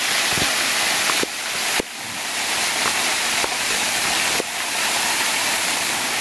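A waterfall at Kbal Spean in Cambodia roars as a loud, steady, broadband rush of falling water, close by and continuous, with no voices.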